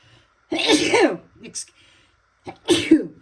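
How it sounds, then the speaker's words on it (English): Two loud sneezes close to the microphone, each a sharp burst, separated by a short pause and a faint breath. "there's the sneeze"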